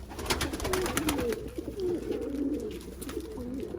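Pigeons cooing nearby, a series of soft repeated low coos over a rustly background, with no talking.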